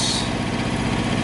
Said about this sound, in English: that's called an APU, auxiliary power unit